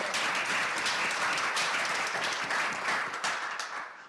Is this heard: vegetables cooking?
no